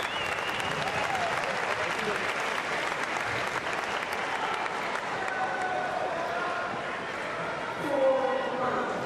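Steady applause from a crowd at a Commonwealth Games mixed team badminton quarter-final, broad and continuous, with commentary running over it.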